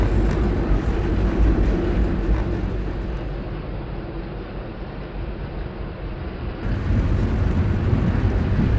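VIA Rail's Canadian passenger train crossing a railway flyover over Canadian Pacific tracks: a loud, continuous rumble and roar of wheels and rails that dips slightly midway and then swells again, heard alone.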